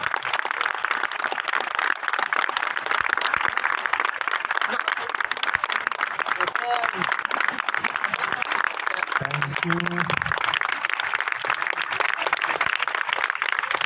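An audience applauds at a live talk show as a guest is called onto the stage. Dense, sustained clapping fills the whole stretch, and a voice speaks briefly through it.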